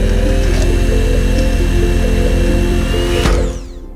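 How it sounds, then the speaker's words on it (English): An electric coffee grinder runs on hammer-crushed honey sugar, giving a steady, close, loud motor whine that cuts off and winds down near the end. "I took my coffee grinder and tried to pass it through that"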